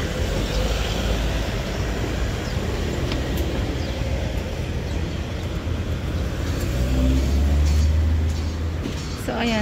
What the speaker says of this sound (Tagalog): Daming mga sasakyan.